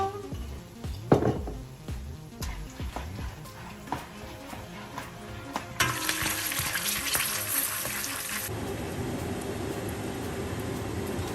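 Roasted gram and peanuts fry in oil in a pan, with a crackling sizzle and scattered clinks of a stirring spoon, then a steady, brighter hiss that swells midway and settles, close-up.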